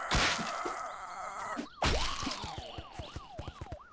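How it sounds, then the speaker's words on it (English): A siren wails outdoors near a gun shop, its pitch sweeping up and down in repeated cycles after a sharp loud crack, fairly close and with no talk over it. "Siren's going off."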